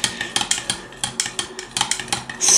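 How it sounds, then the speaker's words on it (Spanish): Metal spoon clinks repeatedly against a bowl while stirring red berry syrup, a quick irregular rhythm of close, bright taps with no voices. "Lo mezclamos con la cuchara."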